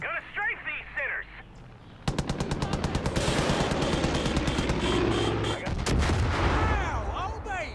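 Dense, loud bursts of automatic gunfire from strafing in the shooter game Far Cry 5 rattle continuously for several seconds, starting with a sharp onset, while a voice shouts and chatters over the shooting.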